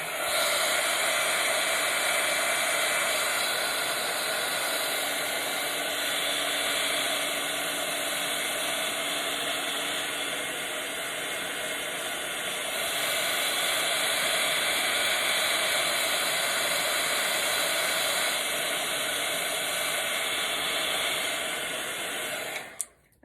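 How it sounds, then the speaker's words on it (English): A heat gun blows over resin as a steady, loud, hissing rush of air that holds constant for over twenty seconds before switching off with a click at the end. "one more blast with the heat gun"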